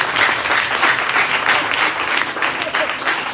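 At a youth conference in Kara, a church congregation bursts into loud, dense applause and cheering, a continuous close roar of many hands clapping with crowd voices mixed in throughout.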